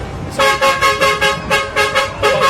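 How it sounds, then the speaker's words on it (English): A car horn honks in a rapid series of short, loud toots, about seven blasts in quick succession, close by, at a Christmas parade. "You have to ask them to honk"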